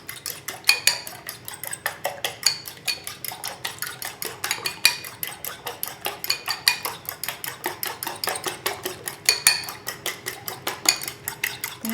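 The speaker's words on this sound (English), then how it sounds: "I'm mixing up eggs and vanilla." Eggs and vanilla whisked in a bowl: a steady, fast run of light metallic clinks and taps of a whisk against the bowl, close and clear, with no voices.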